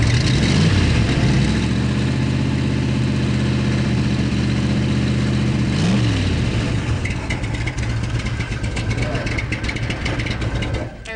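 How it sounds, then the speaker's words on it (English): A 427 race car engine, started in neutral, idles with a steady low rumble, then revs sharply around the middle of the run and settles back into a rough, loud idle, close and continuous throughout. "That is what a 427 is supposed to sound like."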